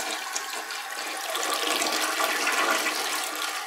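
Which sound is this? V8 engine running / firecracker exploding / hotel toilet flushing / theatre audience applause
hotel toilet flushing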